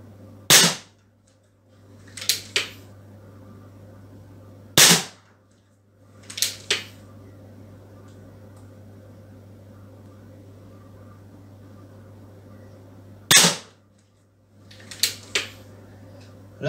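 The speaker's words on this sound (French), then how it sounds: "je tire les 10 plombs vraiment à l'identique" Beeman P17 and Weihrauch HW40 air pistols firing pellets at a 20 m range, sharp isolated cracks coming singly and in pairs at irregular intervals over a steady low hum.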